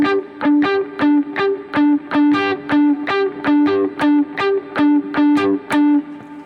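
Dry worship-style electric guitar line with no delay, repeating two picked notes in a steady pulsing rhythm, each note ringing briefly and evenly, loud and close with light distortion and nothing else heard.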